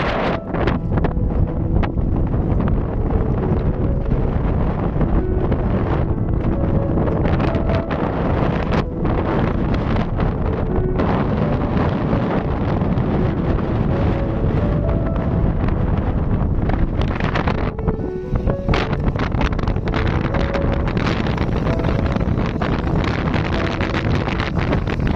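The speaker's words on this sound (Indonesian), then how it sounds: "Suara anginnya itu loh, anginnya kencang banget teman-teman." Strong wind buffeting the microphone on Barelang Bridge, Batam Island, a loud, continuous roar that holds steady throughout.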